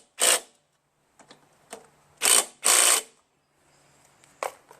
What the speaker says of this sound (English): Tighten up these muffler bolts.